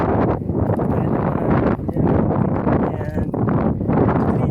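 Strong wind blowing down from Mount Makiling buffets the microphone in a steady, loud roar with gusty swells, while someone talks over it.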